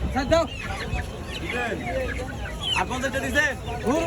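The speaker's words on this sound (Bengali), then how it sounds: "নতুন মোরগ মুরগি 5 মাস বয়সী।" Five-month-old chickens and roosters cluck in a busy, overlapping chorus at a poultry market, with short rising calls repeating throughout and a steady barnyard murmur underneath.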